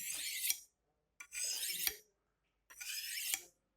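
An F. Dick butcher knife drawn along a Fischer Bargoin honing steel, three bright rasping metal strokes with short pauses between, close and alone.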